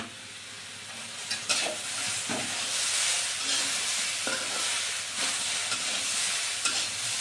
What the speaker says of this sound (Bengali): অল্প একটু ভেজে নি, কষে নিলাম এটা।